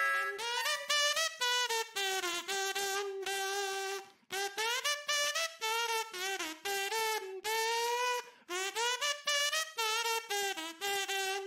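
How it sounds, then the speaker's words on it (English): A kazoo buzzes a bright, nasal melody in quick phrases, loud and close, with brief gaps between notes and no talking. "Kazoo. It looks like a funny little whistle."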